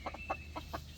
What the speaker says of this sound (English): These chickens are kind of funny.